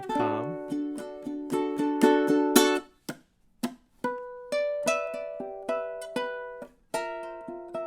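Ukulele playing a variation of a song from measure 18: plucked and strummed notes and chords in a steady rhythm, close and moderately loud, with one brief pause and no talking.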